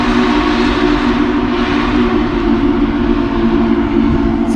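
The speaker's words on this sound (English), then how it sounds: "Wow, that is one loud train" A loud, old-fashioned tourist train called the Sugar Express rumbles past near a creek, a dense, steady roar of engine and wheels with a sustained whistle-like tone running through it, close and continuous with no voices.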